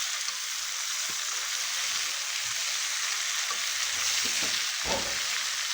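Taro stolons and jackfruit fry in spice paste in a wok, giving a steady, dense sizzle throughout with a few soft scraping stirs near the end.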